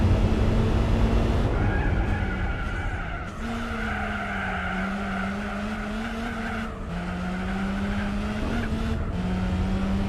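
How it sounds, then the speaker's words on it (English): A racing car engine in Gran Turismo 4 drones steadily at high revs, pitch shifting with gear changes, with tire squeal and skidding throughout; no voices. "It has a rather nice engine sound, surprisingly."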